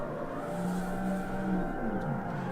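A car in the CarX Street racing game slides sideways with the handbrake held, its engine droning at a steady high pitch and tires hissing, loud and continuous with no voices.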